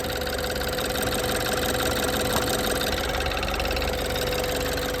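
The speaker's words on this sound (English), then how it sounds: "So fuel injector noise," Car engine, fitted with an upgraded timing chain tensioner, idles steadily with a fast, light ticking from the fuel injectors running through the hum, close up and with no talking.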